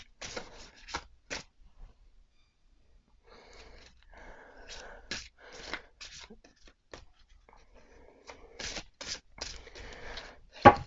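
Samhain oracle cards being shuffled by hand, with bursts of crisp slipping and riffling card sounds in short clusters, quiet gaps between, and faint background rustling.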